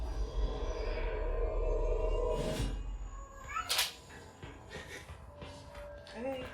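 In the video game Control: Ultimate Edition, a cat gives several drawn-out meows and caterwauls, loud and close, over a low rumbling background with a few sharp clatters.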